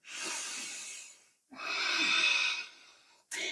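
Deep hatha yoga breaths drawn in and pushed out through the nose and mouth: two long, airy, close-up breaths in a quiet room, followed by the start of a third.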